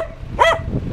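Dogs bark in greeting outdoors in a coastal village, one short, fairly loud bark or yelp standing out near the middle of a brief, noisy moment.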